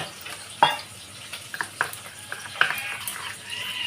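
Spices with a pinch of turmeric frying in a pan with a splash of water, a steady close sizzle broken by scrapes and clinks of a stirring spoon against the pan.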